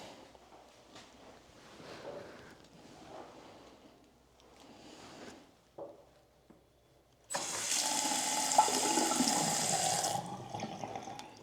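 Water gushes into a sink in a luxury house bathroom, starting abruptly after a few quiet footsteps and soft movement, then running steadily at moderate volume for several seconds.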